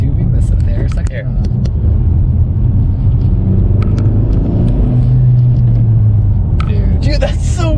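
A 2020 Honda Civic Si fitted with a PRL Cobra cold air intake revs loudly from inside the cabin, a heavy engine rumble swelling under the car's whir and intake rush, with people talking excitedly over it.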